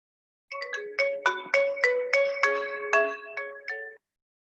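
A mobile phone ringtone plays alone and clearly, a bright melodic pattern of repeated chiming notes in a steady rhythm, close and fairly loud, starting after a brief silence and cutting off sharply.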